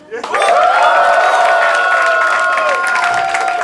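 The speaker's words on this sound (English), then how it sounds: "Applause." Studio audience on a comedy guessing-game show breaks into sustained applause and cheering, loud and steady for several seconds, with voices mixed into the crowd noise.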